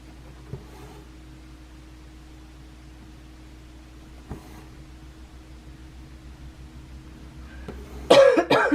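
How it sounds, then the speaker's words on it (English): A steady low hum fills a quiet room, broken by a couple of faint isolated coughs before a harsh, loud burst of choking coughs near the end. "I don't know why today I have this funky choking cough"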